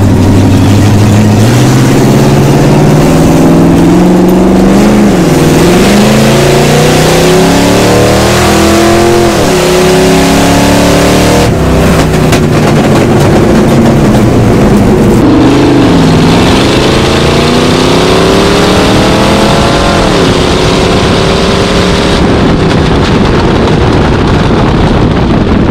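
Fox body Ford Mustang engine revving loud and close, rising and falling through repeated throttle blips and pulls, steady throughout with no talk over it.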